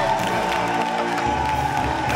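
A studio audience on a live Ivorian entertainment show cheers and claps, a dense crowd wash held steady for about two seconds over a sustained tonal bed, with no voice speaking.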